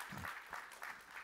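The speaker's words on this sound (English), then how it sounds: "a round of applause to you" A brief burst of audience applause at a startup demo semifinal on a conference stage, steady and moderately loud, fading in and out in quick waves.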